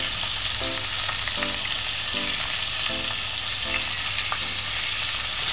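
Liver with onion, garlic and scallion sizzles steadily in a saucepan, and a utensil scrapes through it in a regular stirring rhythm about every second.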